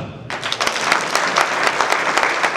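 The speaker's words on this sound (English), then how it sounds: "Give, give us a clap" Graduates and guests at the University of Embu's first cohort graduation ceremony in Kenya clap together, a sudden burst of many hands that continues briskly and evenly.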